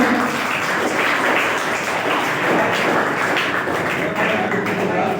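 Dense applause from an audience at a school annual results and prize distribution ceremony, a steady wash of many hands clapping throughout, loud and close, with voices faintly mixed in underneath.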